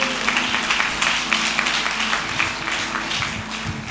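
A church congregation claps together in dense, steady applause that fills the room for a few seconds with a pulsing rhythm.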